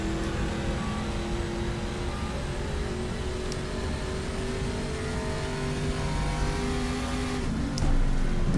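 A Ford V8 race car engine in the racing game GTR2 drones loud and steady on track at Österreichring, holding a sustained rev with a slight rise at the end.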